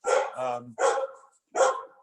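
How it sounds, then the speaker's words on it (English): Several loud, close dog barks in quick succession, three sharp bursts with brief pauses between them. "Pardon the dogs barking."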